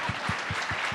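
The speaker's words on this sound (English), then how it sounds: "you can clap for that if you want" Audience applause fills a sold-out room at a talk forum, dense and steady clapping from a crowd, close and continuous throughout the short moment.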